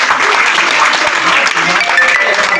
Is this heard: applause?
yes